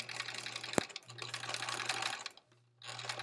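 A sewing machine stitches a foundation paper pieced quilt block in a steady, fast hum broken by a sharp click, pausing briefly before running again, close and moderately quiet.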